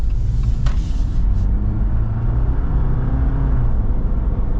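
A lifted 2023 Jeep Wrangler Rubicon 4xe on 37-inch tires pulls away, giving a steady loud low rumble of drivetrain and tire noise heard from inside, with a faint click near the start and no speech.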